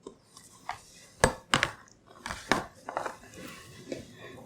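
Pot-and-pan clatter as store-bought Korean soup for rice cake soup (tteokguk) goes into a saucepan: a few sharp, close metallic knocks and clinks among softer handling noises in a quiet kitchen.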